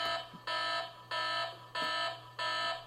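Toy fire truck playset sounding its electronic siren: a loud, close, repeating two-tone alarm wail in four regular bursts, each about half a second apart, with no talking over it.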